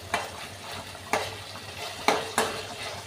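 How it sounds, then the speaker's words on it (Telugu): Ginger garlic paste frying on a low flame, stirred with four distinct spoon scrapes against the pan over a soft, steady sizzle and a low hum. "కాబట్టి మనం సిమ్లో పెట్టి వేయించుకోవాలి."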